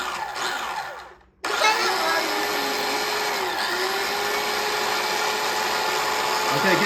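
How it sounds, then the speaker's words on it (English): Fruit is chopped for homemade jam as a loud, steady mechanical whir starts abruptly after a short near-silent pause and runs on close and unbroken, with voices talking over it. "Time to chop."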